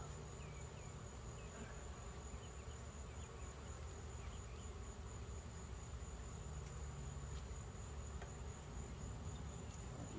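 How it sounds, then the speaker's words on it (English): Bees from an open-air honeybee colony hum and buzz in a faint, steady drone that fills the whole stretch, with individual insects flitting nearby. "I have bees literally crawling all over my hand right now."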